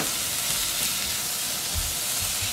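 Shrimp searing in a hot pan, a continuous loud sizzle and hiss with a few low bumps, steady throughout.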